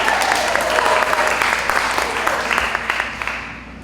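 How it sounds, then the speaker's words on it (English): An audience at a story slam for the Tivoli sesquicentennial in 2022 breaks into loud, close applause that gradually thins and fades, with a voice speaking over the clapping. "let's applaud that"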